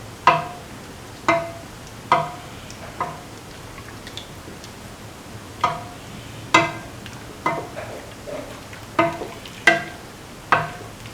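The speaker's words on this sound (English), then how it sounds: "Mix thoroughly. Mix the sugar in" A spoon stirring sugar into coconut milk vermicelli in a pot, about a dozen sharp clinks against the pan at an uneven pace over a quiet hiss, close and with no talk.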